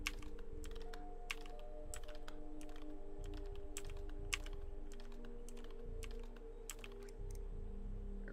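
WASD keys on a computer keyboard clatter in quick, irregular bursts during MiSide gameplay, close and steady through the whole stretch over a faint constant hum, with no talking.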